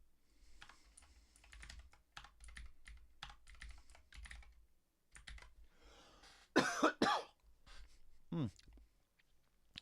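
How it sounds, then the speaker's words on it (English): A few sharp coughs burst out near the end over quiet, steady computer keyboard typing and clicking at a desk, close and fairly loud against the faint background. "Got kind of a cough going on."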